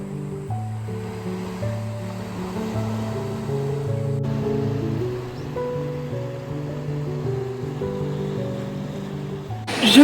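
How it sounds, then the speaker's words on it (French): Waves break steadily on a Seychelles beach, a continuous washing surf that rises to a louder surge at the very end. "je sais pas si vous m'entendrez avec le bruit de la mer"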